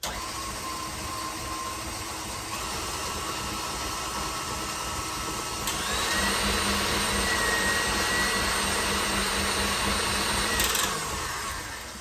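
A KitchenAid stand mixer runs steadily creaming gluten-free chocolate chip cookie dough, a continuous motor whir that grows slightly louder partway through and holds without pause.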